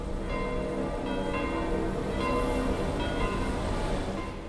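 Church bells peal continuously over Rome, layered tolls ringing out with a resonant, sustained hum.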